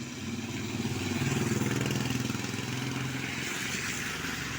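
Motorcycles ride past on a roadside, a mid-pitched engine drone that rises as a bike nears, peaks around the middle, then recedes, loud and close with no voices over it.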